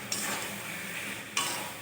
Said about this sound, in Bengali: কচু শাকটাকে ভেজে নেব